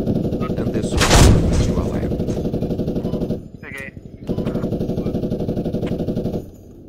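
A powerful weapon fires in a realistic shooter video game, heard as rapid, loud automatic bursts with a brief break in the middle, while a streamer talks over the gunfire.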